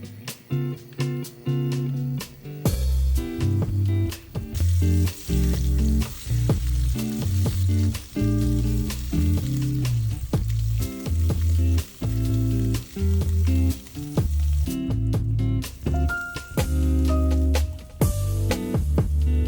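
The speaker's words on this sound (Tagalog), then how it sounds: "Nagluto lang ako nito para kay Jeff at Ham para sa kanyang agahan" Food frying in a pan for a home breakfast and lunchbox, a steady loud sizzle with repeated stirring and scraping clinks throughout, no talking.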